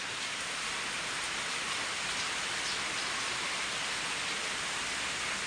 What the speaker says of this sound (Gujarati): બહાર તો વરસાદ જબરજસ્ત ચાલુ